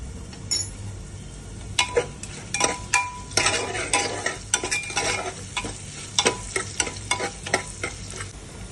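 Salted carrots frying in a pan for pulao, with a metal spoon stirring and scraping in quick irregular strokes over a steady low sizzle, close and clear.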